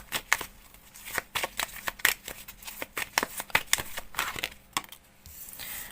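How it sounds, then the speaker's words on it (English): Playing cards are handled and cut as a deck for a tarot-style reading, giving a quick run of sharp papery riffles and snaps, close and clear, with no talking. "let me cut the cards right now. Cut the deck, I mean."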